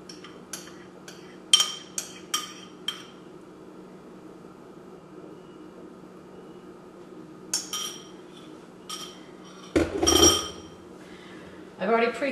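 A metal spoon clinks and scrapes against a baking dish while melted honey is spooned over meatloaf, giving scattered sharp taps in small clusters, close and fairly quiet, over a low room hum.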